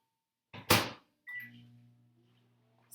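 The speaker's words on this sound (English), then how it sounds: "So 2 minutes total in the microwave for that hot water." A microwave oven heating a cup of water: a door clunk and button beeps, then a steady low electrical hum starts up and runs close by and alone, with no talking.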